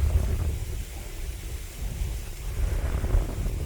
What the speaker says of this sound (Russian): Вот такой ветер сегодня.